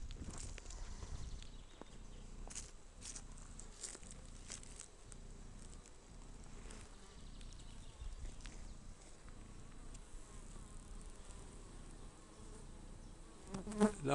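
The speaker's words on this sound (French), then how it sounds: "Là on voit des abeilles qui ventilent à l'entrée pour rafraîchir un peu l'intérieur de la ruchette." Honeybees fanning at the entrance of a small nucleus hive, a dense steady buzz with individual bees droning past close to the microphone, a louder flutter at the end.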